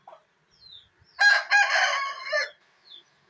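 White Aseel rooster crowing once, a loud close cock-a-doodle-doo of about a second and a half, set between faint clucks and quiet pauses.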